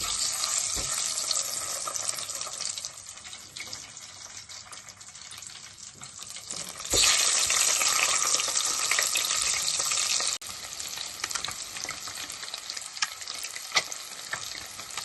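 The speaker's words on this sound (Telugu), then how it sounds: "మనం ఇప్పుడు గుడ్లకి కాట్లు పెట్టుకుని వేపుకోవాలి." Scored eggs fry in hot oil with turmeric for beerakaya curry, a steady crackling sizzle that swells louder for a few seconds midway, with occasional stirring scrapes and no talk.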